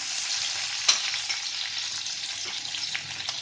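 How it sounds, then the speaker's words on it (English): Yellow, red and green capsicums hitting a hot frying pan, a bright steady sizzle with a sharp crackle at the moment they land, close and alone. "Now I'm going to add all the capsicums. Here goes the yellow capsicum,"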